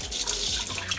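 A bilge pump pushes water out through the blowhole of a ride-on electric dolphin built for a kid, giving a short, loud burst of gushing, splashing water.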